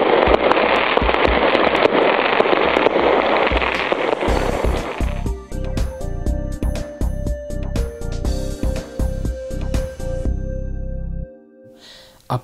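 Fireworks bursting to celebrate an arrival in Hradec Králové, a dense crackling roar for the first seconds, then a rapid string of sharp separate bangs and pops before fading to quiet.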